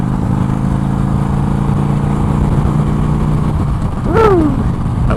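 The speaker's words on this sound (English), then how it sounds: "I don't know why this bike is so great on the highway, but I really do enjoy it." A motorcycle cruising on the highway, its engine drone and wind roar steady and loud throughout, with a brief rising whine passing near the end.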